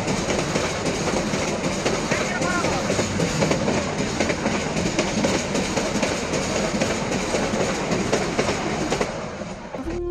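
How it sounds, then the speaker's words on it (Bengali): A train passes along a rail line near Mirsarai, its wheels rumbling and clattering loud and close in a steady, continuous roar that eases slightly at the very end. "রাস্তার সামনে যাওয়ার সাথে সাথে ট্রেন চলে আসলো"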